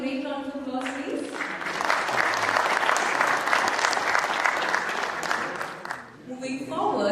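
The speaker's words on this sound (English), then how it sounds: "can you once again give a great round of applause, please?" Conference audience at an Indian industry event on IP, technology, data and AI breaking into sustained applause, a loud, even crowd clapping that swells in and fades out, with a speaking voice just before and after.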